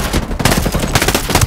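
Sustained automatic gunfire in the tactical shooter Ghost Recon Breakpoint, rapid overlapping bursts filling the whole stretch at steady loudness, with no talk over it.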